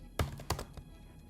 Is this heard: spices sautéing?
no